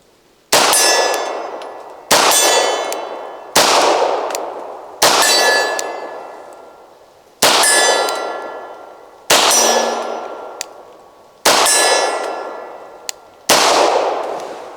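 Eight rifle shots ring off steel targets on a hillside during testing of a Gideon Optics Alpha scope. Each loud crack is followed by a long metallic clang that fades, spaced at a steady unhurried pace with quiet gaps between.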